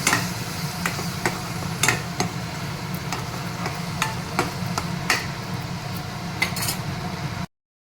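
Radish chutney stirred in a pan with the gas off, a steady scraping and stirring with soft clicks of the spoon against the pan, close and continuous, with no talk.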